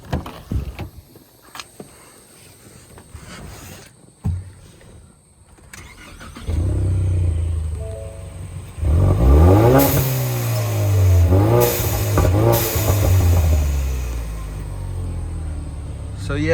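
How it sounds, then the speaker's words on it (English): A Ford EcoBoost car with a blow-off valve fitted is started with some clicks and handling sounds before the engine cranks and catches, then revs in loud, rising and falling surges close by, with talking at times. "We'll start the car up."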